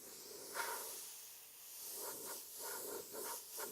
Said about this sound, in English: I'm not going full blast with the airbrush.